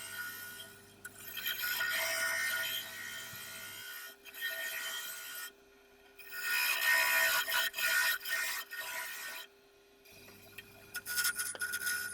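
Oak lidded box being hollowed on a wood lathe with a carpet tool, a close, steady scraping and rasping in two long bursts with short quiet pauses between, plus a faint motor hum underneath.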